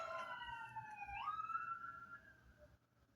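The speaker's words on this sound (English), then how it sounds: "as soon as I sat down, there's sirens going off." Emergency vehicle sirens wailing outside, faint and distant, the tone sliding up and holding before it fades.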